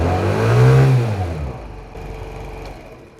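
A small 50cc moped engine running after its CDI box was replaced, heard up close as a brief rising rev that settles back into a steady, buzzy idle, with no voices.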